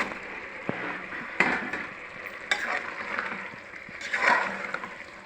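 Mutton and masala fry in a pot for biryani, with crackling sizzle broken by scraping stirs and clacks of a utensil, loud and close, with no talk.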